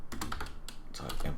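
Rapid typing on a computer keyboard with quick clustered key clicks, close and fairly loud, while someone sets up input in Unreal Engine 4.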